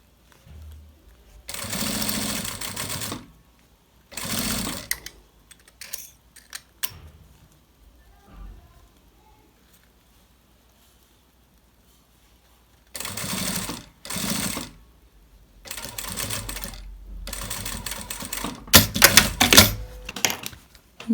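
Sewing machine stitching a mitred corner on bias binding, running in several short bursts separated by quiet pauses while the needle is lowered and the piece turned, close and clear.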